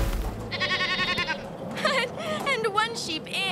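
Sheep on a snowy island bleat in a cartoon, several shaky nasal bleats in quick succession mixed with voices and background music.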